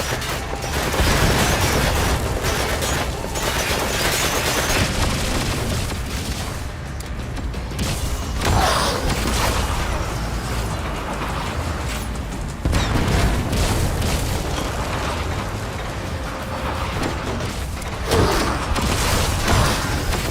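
Tank cannon fire and explosions in Metal Gear Solid V battle, with heavy booms and rumbling blasts repeating through a dense, continuous wash of combat noise, loud and close throughout.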